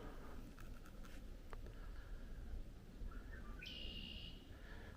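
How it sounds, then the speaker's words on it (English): Frogs and birds calling over a swampy area along a park trail in Toccoa, Georgia, faint chirps and a brief whistled note drifting over a soft constant background hiss. "You can hear all kinds of frogs out there and all kinds of birds."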